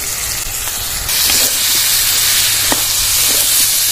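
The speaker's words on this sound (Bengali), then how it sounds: "বন্ধুরা, আমি আলুটা আর পেঁয়াজটা খুব ভালো করে ভেজে নেব।" Potatoes and onions fry in a pan for a Bengali jackfruit dish, giving a loud, steady hiss that swells after the first second, with a few light clicks of stirring and no voices.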